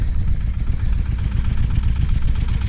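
A Shifeng 240 mini tractor engine runs steadily while ploughing sandy ground, a loud, continuous low throbbing drone with an even rhythm, close by and with no voices.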